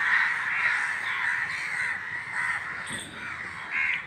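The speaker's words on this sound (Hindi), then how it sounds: "इतने सालों से विलुप्त हुए कौवा आज एक साथ इतना सारा देखने को मिला है" Many crows in Mumbai caw continuously, a dense, steady chorus of harsh calls from a large flock nearby, with no voices.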